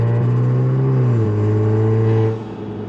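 Exhaust of an Mk7 Golf R revving in first gear, a loud, close, deep droning tone that rises and then settles before the revs drop away near the end.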